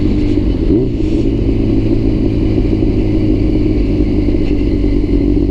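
A 1999 Yamaha R6 motorcycle engine runs steadily close by, a dense mid-range engine drone that holds at a fairly constant level with a slight rise in pitch near the start, with no talking.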